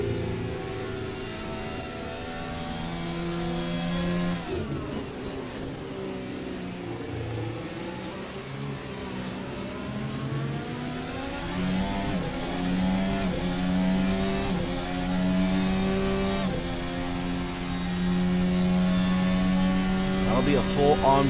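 Race car engines drone and rise in pitch through gear changes on a video game lap of Grand Valley Speedway, a continuous onboard engine roar lasting throughout, with a commentator talking over it.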